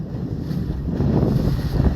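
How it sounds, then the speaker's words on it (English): A boat travels across open water, its low rumble mixed with the splash of waves and heavy wind buffeting the microphone, with no one talking. "This is the boat of the leader of the opposition."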